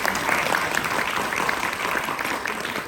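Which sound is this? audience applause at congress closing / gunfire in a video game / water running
audience applause at congress closing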